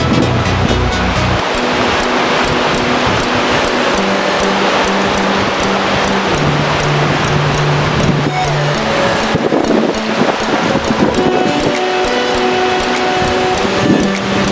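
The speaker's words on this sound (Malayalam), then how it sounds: "നല്ല ഹെവി കാറ്റാണ് ഇവിടെ." Strong, cold wind blows at a viewpoint near Kudregundi Falls in Karnataka, a loud, constant roaring rush that buffets the microphone, with low tonal hums from passing engines underneath and no talk.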